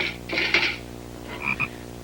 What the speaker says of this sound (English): We're going to dissect a frog.